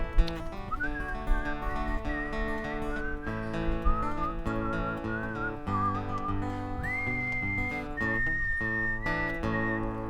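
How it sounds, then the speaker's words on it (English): A worship congregation whistles a hymn melody together over steady instrumental accompaniment, the bright whistled line rising and falling continuously for about ten seconds at moderate loudness. "Can you whistle with me?"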